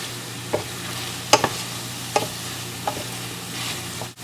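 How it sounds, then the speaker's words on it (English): Stir-fried meat strips sizzle in a pan on low heat, giving a steady close hiss punctuated by a few sharp spatula scrapes and stirs. "Even on low temperatures, you'll still hear the sizzling."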